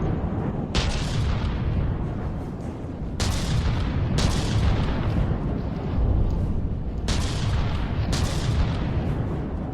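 Heavy guns on battling ships in From the Depths fire in booming, rumbling salvos, with several loud bursts spread over a continuous roar of gunfire and explosions.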